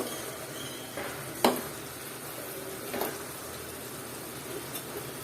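Frozen jackfruit seeds and shrimp sautéing in a pan, a quiet continuous sizzle broken by a few sharp clinks and scrapes of the spoon against the pan, close up, no talking.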